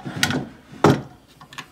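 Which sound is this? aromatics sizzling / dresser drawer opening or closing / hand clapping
dresser drawer opening or closing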